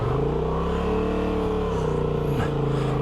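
A 2024 Honda Transalp XL750 motorcycle labours as its rear wheel digs into deep sand. The engine drone is loud and continuous, its pitch sagging and rising, with a voice faintly underneath.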